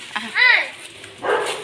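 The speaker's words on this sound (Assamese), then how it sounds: "সেই কুকুৰে কান্দিছে, ভয় লাগে মোৰ কুকুৰকেইটা।" A dog gives a couple of short, high whining yelps, then a longer whimpering cry, close by.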